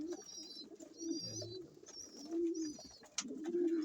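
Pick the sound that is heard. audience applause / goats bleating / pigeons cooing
pigeons cooing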